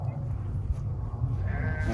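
Sheep bleat close by over a low, steady background rumble, on a seasonal highland migration from Elazığ to Erzurum.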